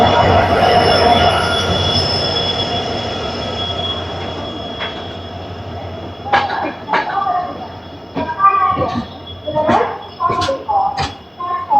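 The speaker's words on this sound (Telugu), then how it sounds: "WAG 7 diesel locomotive WDP-4B." A WDP-4B diesel locomotive train passes at an Indian railway station, a steady rumble that fades, then rhythmic clanks and squeals of wheels over rail joints, with voices nearby.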